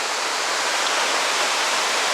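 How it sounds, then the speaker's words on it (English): Cumberland Falls in Kentucky, a roughly 60-foot waterfall, thousands of gallons pouring down in a loud, steady, broadband roar that holds constant throughout. "Every second, thousands upon thousands of gallons drop from the top to the bottom."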